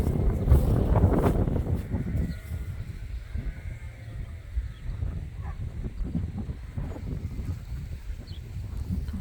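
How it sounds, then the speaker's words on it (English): Strong wind gusts across a sheep farm field, buffeting the microphone with a loud, rumbling roar that is strongest at the start and then settles into a steady, fluttering rush. "The noise you're gonna hear is the wind"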